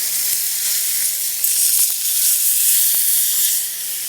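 Onions added to a hot pan give a loud, steady hiss and sizzle that continues throughout, with a few faint clicks and no speech.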